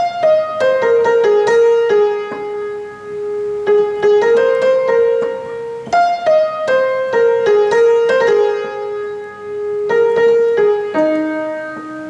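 A piano plays a verse melody as a clear single-note line, with short phrases of struck notes repeating and ringing out, no voice.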